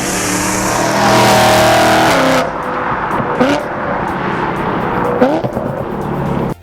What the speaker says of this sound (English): The V8 motor is a powerhouse, and the exhaust gives it a very engaging personality.